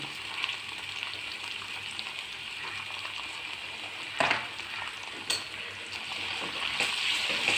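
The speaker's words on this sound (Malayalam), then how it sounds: "ഒന്ന് മിക്സ് ചെയ്ത് ഒന്നങ്ങോട്ട് വാടട്ടെ" Garlic, ginger, green chili and curry leaves fry in hot oil for a fish pickle, a steady close sizzle with occasional clinks and bumps of stirring.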